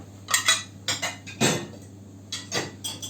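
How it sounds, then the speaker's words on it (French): Chickpeas, onion, parsley and meat being mixed in a dish for couscous meatballs, giving a few scattered metallic scrapes and clinks of a utensil against the bowl, close and moderately loud with pauses between strokes. "Alors, ensuite, je mélange un petit peu comme ça."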